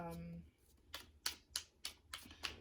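Playing cards are shuffled in a quiet room, with about six sharp, evenly spaced riffling bursts following a brief voice at the start.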